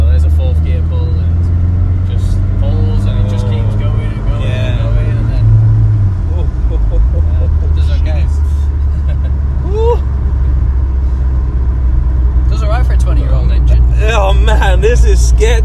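A 1989 VW MK1 Caddy with an O2J gearbox pulls hard in fourth gear, its engine a steady low drone heard from inside the cab throughout, with a person talking over it.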